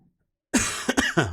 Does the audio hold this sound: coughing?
yes